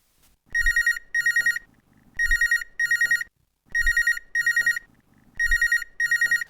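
A telephone rings for a phone-in call on a Marathi farmers' radio programme, four loud clean double rings in a steady repeating pattern, with no talk over them.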